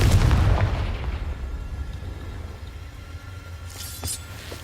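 A Confringo spell blast in the video game Hogwarts Legacy, opening with a loud booming burst and low rumble that gradually fades, followed by a brief sharp pop near the end.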